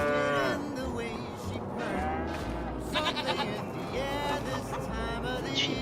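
Cows in the Farming Simulator 25 video game give several drawn-out moos over a steady farmyard background, with other livestock calls mixed in.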